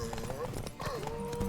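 A horse gallops in The Witcher 3 video game, its hooves beating a quick, steady clip-clop rhythm throughout while people talk over it.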